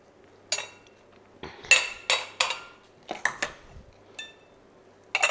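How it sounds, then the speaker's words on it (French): Glass jars being filled with small balsamic-vinegar onions: a series of sharp clinks and knocks close by, with separate hits at uneven intervals and short quiet gaps between them, and no voices. "Donc là, je remplis mes bocaux."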